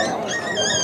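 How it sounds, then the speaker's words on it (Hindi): A puppy for sale at the Sonpur fair in Bihar whimpering and whining in high, wavering cries, close and fairly loud amid crowd noise. "देखिए कुत्ता का बच्चा है कितना का है?"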